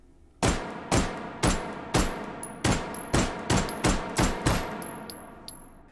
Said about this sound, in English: let's do a 10-round recoil test with the Mauser, purling as fast as I can.